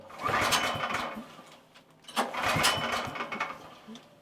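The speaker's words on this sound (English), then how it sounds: "Let's try the pull start, see if it works." A dual fuel home generator given two pull-start attempts, each a loud rattling mechanical burst of about two seconds, with no clean catch into a steady idle.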